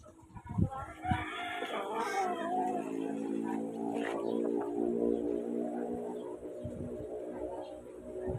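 A rooster, father of a brood of chicks, calls out nearby in a farmyard, a drawn-out crowing phrase over a busy background of other fowl and faint voices.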